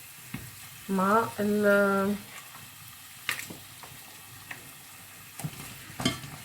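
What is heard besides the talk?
meat frying in pan with onion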